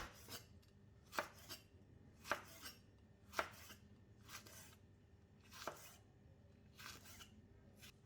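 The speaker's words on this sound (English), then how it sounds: "cut all the green chili slantingly into thin slices" A knife slices green chillies thinly at a slant on a cutting board, giving a series of crisp, evenly spaced chops, close and fairly quiet, with no talking.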